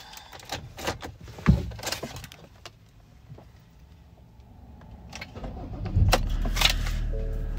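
A 2019 Ford Ranger 3.2 TDCI Wildtrak automatic diesel pickup: keys jangle and interior clicks come first, then the engine cranks and fires up near the end, quickly settling into a low idle rumble.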